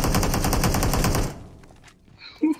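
Rapid automatic gunfire in the PUBG Mobile video game, a fast steady burst of loud shots that stops abruptly, followed by quieter sounds and a brief sharp noise near the end.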